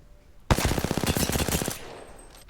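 Sustained automatic fire from a heavy-ammo weapon without attachments in Apex Legends: a rapid, evenly spaced burst of about twenty close, punchy shots lasting over a second, then a brief tail.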